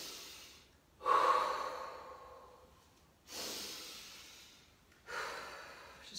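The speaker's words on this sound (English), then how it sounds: "Slow your breaths." Heavy breathing after a hard workout interval, three long breaths at a slow, even pace, each one loud, close and breathy.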